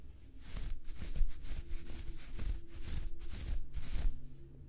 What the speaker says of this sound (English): So I'm gonna scratch my shirt.